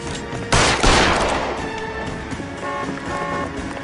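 Gunfire in L.A. Noire: a burst of sharp shots erupts near the start, followed by lingering rumble and fainter pops under ambient game noise.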